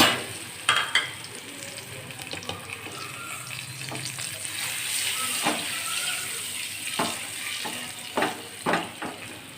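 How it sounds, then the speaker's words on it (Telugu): Boiled eggs frying in a little oil with turmeric for an egg curry, giving a steady soft sizzle broken by scattered clinks and scrapes of stirring in the pan, no talking. "ఇప్పుడు మనం బాయిల్ చేసి పెట్టుకున్న ఎగ్స్ ఇందులో కొంచెం ఫ్రై చేసుకున్నాం"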